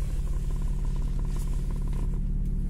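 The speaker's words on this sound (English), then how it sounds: "what we're going to do now is to start the car" A BMW E60 with an M57 diesel engine and a faulty injector idles with a steady low rumble and faint rattle, close by and unchanging; no distinct start is audible.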